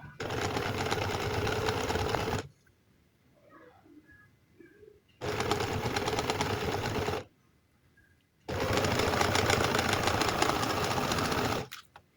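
A sewing machine stitches boot piping onto fabric in three loud, steady bursts of rapid whirring, with short quiet pauses in between in which faint bird coos can be heard.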